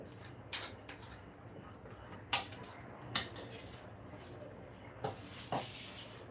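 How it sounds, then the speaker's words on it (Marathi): Fruit being cut with a knife for fruit custard: several sharp, close taps of the blade striking a board, spaced irregularly over a steady low background hiss. "तोपर्यंत हे फ्रूट जे आपण घेतलेले आहेत ते आपण इथे कट करून घेऊया"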